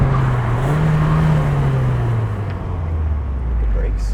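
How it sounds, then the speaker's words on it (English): A 1996 BMW Z3 engine drones steadily while driving, its pitch rising and easing as revs climb and settle, heard close from inside the cabin with road and wind noise around it. "Engine loves to rev."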